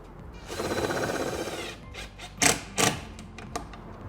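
A screw being driven to fasten a drawer box onto a soft-close drawer slide, heard as a steady whirring drive burst followed by a few sharp clicks and knocks, close and fairly quiet.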